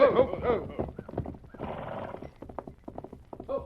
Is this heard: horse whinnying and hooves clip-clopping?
yes